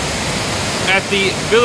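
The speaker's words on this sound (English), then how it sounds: "where the water flows out of the somehow inappropriately named Valley of Hells." Water rushing out at Mermaid's Grotto in Villa Gregoriana, Tivoli, a loud, steady waterfall roar filling the whole clip while a person speaks over it.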